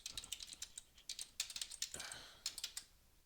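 Rapid keystrokes on a computer keyboard while entering a command on an Ubuntu system, a quick irregular clatter of close, crisp taps in short bursts with brief pauses and no talking.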